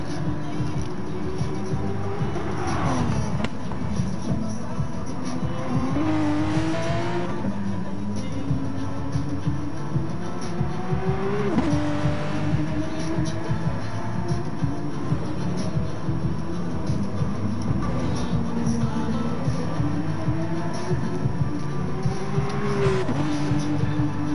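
Race cars lap Interlagos in Gran Turismo Sport during an online league round, their engines droning steadily with rising and falling revs through the corners and gear changes, continuous and fairly loud, with a commentator talking over them.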